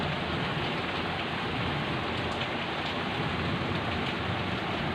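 Heavy rain of the year's first downpour pours down steadily, a dense, even hiss from nearby with no pauses and no voices.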